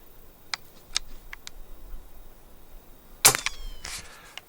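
A CO2-powered air rifle fires heavy 10.65-grain .177 pellets outdoors, one sharp, loud crack near the three-second mark with a short ringing tail, plus a few faint clicks of handling earlier.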